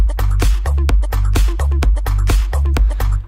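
An electronic music loop made in Ableton Live thumps along with a heavy kick, deep bass pulses and crisp percussion hits in a tight repeating groove. It is loud and dense throughout, with no voices.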